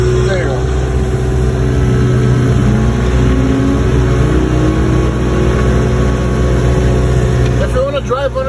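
A skid steer loader runs with a loud, steady mid-pitched engine drone as it drives and raises its boom over rocky ground, with a rising whine near the end and a voice talking over the machine.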